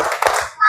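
Children clapping in a classroom morning greeting chant, a few quick hand claps mixed with young voices over a very short stretch.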